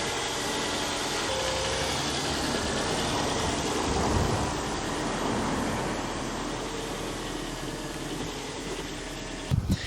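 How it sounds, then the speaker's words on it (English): A Mk1 car engine idles steadily, a smooth, even hum heard close by with no talking, followed by a couple of brief knocks at the very end. "We're just letting the car idle really nice"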